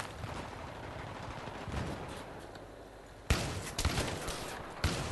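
Gunfire in the video game Battlefield 3, including an SV98 sniper rifle: a faint, steady crackle of distant shooting, then a few sharper, louder shots near the end.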